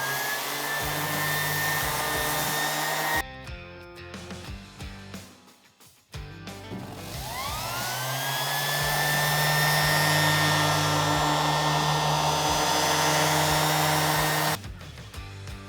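A power sander works oil and rust into a slurry on the cast-iron table of a woodworking machine, a steady whining drone that pauses briefly midway and then spins back up.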